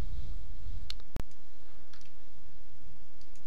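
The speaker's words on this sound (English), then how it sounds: "Click apply now." Computer mouse clicking an apply button in a settings dialog, a single sharp, close click standing alone in a quiet room.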